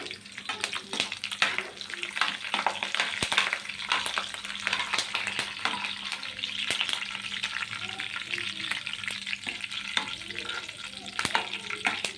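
Curry leaves and dried red chillies sizzling in hot oil, a steady close crackle with sharp pops and spits scattered throughout.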